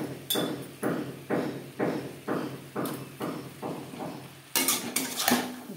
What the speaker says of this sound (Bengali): ধনেপাতা শিমের সাথে বেশ ভালো করে মিক্স করে দেব।